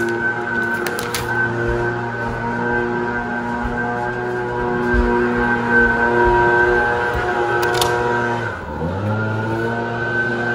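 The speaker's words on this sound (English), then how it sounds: "Can y'all hear Randy with the blower" A leaf blower runs steadily outdoors for the whole stretch, a loud continuous engine drone with a brief dip in pitch and level near the end before it picks back up.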